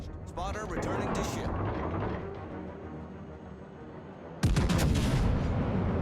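Battleship main guns fire a salvo in a naval video game, with a sudden heavy, loud broadband blast near the end following rumbling battle noise and a voice talking over it.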